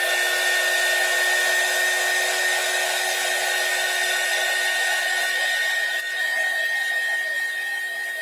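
A hair dryer blows a continuous, loud whirring hum with a steady whine while it heats the bottom of a vessel used for melting wax. It runs alone throughout without a break.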